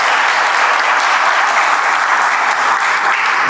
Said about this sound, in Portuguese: Uma salva de palmas a todos vocês.